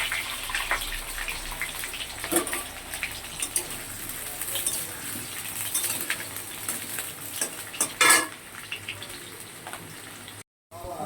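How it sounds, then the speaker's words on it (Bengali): Potatoes frying in hot oil in a home kitchen: a steady, close sizzle and bubbling throughout, with occasional louder spatters and stirring noises, and no voice. "এবার আলুগুলো ভালো করে ভেজে নেব।"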